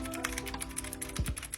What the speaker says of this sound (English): Now here's a quick typing test.